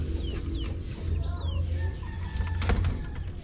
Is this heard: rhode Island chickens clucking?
yes